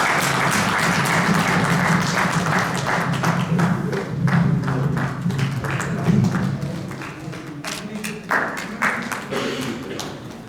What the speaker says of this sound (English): give a big hand. Give a round of applause.